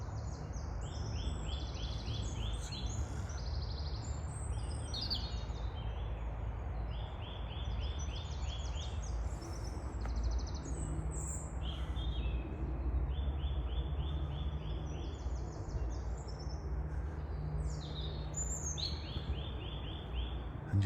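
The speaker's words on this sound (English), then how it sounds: "just listen to the bird song as well" Birdsong in Woolley Wood, Sheffield, among spring bluebells and wild garlic: repeated bright, high calls and trills from several birds over a steady low background rumble, lasting throughout with no talking.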